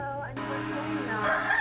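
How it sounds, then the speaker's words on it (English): A single rooster crow, one drawn-out call that rises and holds, moderately loud over a steady low background hum. "We heard a rooster back here."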